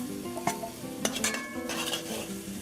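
A spoon scrapes and clinks against a pot as mango and pommecythere are stirred into a simmering fish curry, with a few sharp metallic taps over a soft, continuous sizzle.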